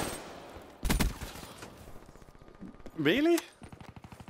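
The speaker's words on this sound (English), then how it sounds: "I was shooting right at him" Bursts of gunfire in the video game Black Ops 3, a sharp loud volley followed by rapid repeated shots, with a voice speaking briefly in between.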